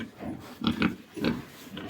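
Pigs grunt on a farm where sows are kept for breeding, several short close grunts in a loose uneven rhythm, with no talk.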